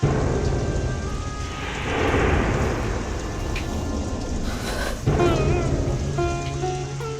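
Steady heavy rain hisses throughout, with a low rumble of thunder swelling midway, and some faint tonal sounds near the end.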